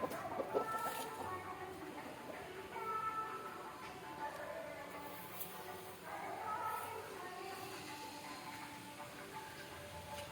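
A broody hen in a coop clucks and fusses in soft, repeated calls as she is caught, fairly faint against a busy background.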